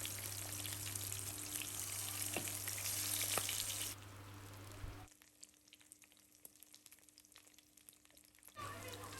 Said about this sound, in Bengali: এক পাশ ভাজা হয়ে গেছে, তো আমি উল্টে দিচ্ছি অপর পাশটা।